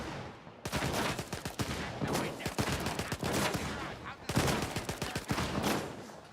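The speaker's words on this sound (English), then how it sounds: "Somebody in there with a shotgun is trying to shoot out" Shotgun gunfire in the Stalker 2 video game, a rapid string of sharp, loud blasts from somewhere inside a nearby building, broken by a short lull before another burst of shots.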